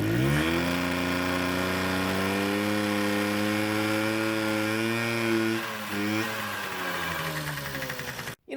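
A moped engine on its first ride, its wheel slightly wobbly, runs with a loud, steady, close buzzing drone that dips briefly midway and cuts out abruptly at the end.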